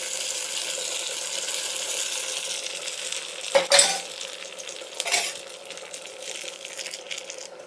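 Bottle gourd kootu mixed in a pan, a soft steady hiss beneath a couple of distinct metallic clinks and scrapes of a spoon against the vessel, with no talking.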